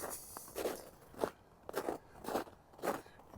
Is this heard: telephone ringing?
no